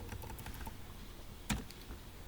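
Keys tapped on a computer keyboard during a desktop publishing session, a few soft clicks early on and one sharper keystroke near the end, quiet and close with no talk.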